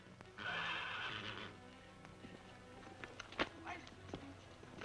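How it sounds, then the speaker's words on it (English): A bay horse whinnies loudly and long near the start, followed by scattered clip-clop of hooves and stamping, with a faint background hum and occasional voices nearby. "That bay horse is well broke."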